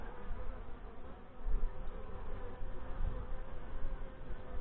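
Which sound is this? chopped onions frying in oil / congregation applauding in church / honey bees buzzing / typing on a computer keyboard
honey bees buzzing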